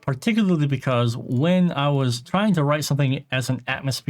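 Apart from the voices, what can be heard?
No distinct noise like a dog, phone or traffic.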